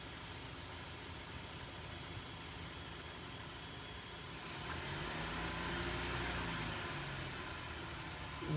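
A car engine idles steadily, then is revved to about 1100-1500 RPM and held there while a mechanic checks whether the AC compressor pumps refrigerant; the hum rises partway through and stays raised, near and steady, with no talking.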